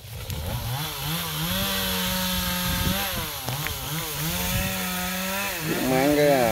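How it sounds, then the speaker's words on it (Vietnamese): A G4002 chainsaw cutting a large golden-flowered tree runs steadily and loud, its engine pitch wavering as the blade bites into the wood, close by throughout. "Rồi chúng mình sử dụng cái máy cưa G4002 nha các bạn."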